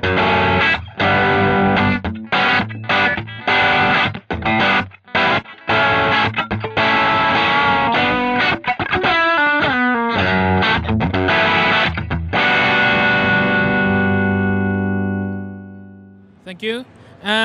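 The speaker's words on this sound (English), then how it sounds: "At lower side, in the blue area, is a tight low gain and chimey high end sound." Electric guitar through an Ovaltone Forty5 Drive pedal set to low gain plays a loud, close run of chopped chords and riffs with a tight, chimey edge, then lets a final chord ring and fade.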